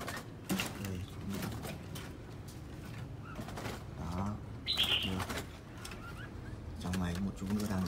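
Silver-cheeked laughingthrushes from Cao Bằng, kept as caged birds, give scattered calls and chirps with wing flutters and cage clatter, moderately close, with some background voices.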